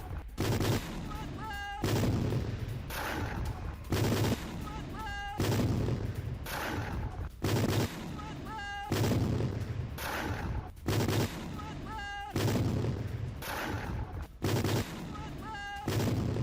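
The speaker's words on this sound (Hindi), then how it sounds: "फ्रंट लाइन पर आमने सामने की लड़ाई, कई घंटों तक दोनों तरफ से फायरिंग की।" Gunfire is exchanged at night on a front line between opposing forces, with repeated heavy bursts of shots recurring at a steady rhythm, some sounding deep and booming like artillery.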